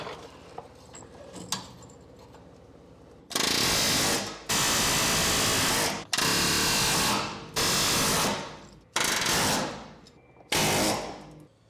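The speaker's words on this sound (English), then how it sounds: "The key is to have a nice sharpened bit on your air hammer." An air hammer with a sharpened bit fires in five or six loud sustained bursts of about a second each, separated by short pauses, after a few quiet clanks, during interior teardown of a 1967 Chevy C10.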